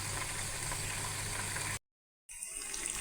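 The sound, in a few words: bitter gourd frying in a pan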